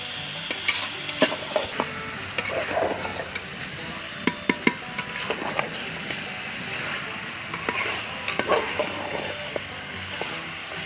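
Ground coriander and chili powder sizzle steadily in a pan of potato and apple mutton curry. Several sharp taps and scrapes of a spoon against the pot break through the frying hiss as the spices are stirred in.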